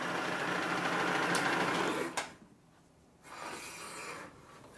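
A cutter machines a chamfer into a 1958–1960 Harley-Davidson Panhead cylinder head with a close, steady grinding rasp for about two seconds. It then drops to near quiet, and a fainter cutting sound follows.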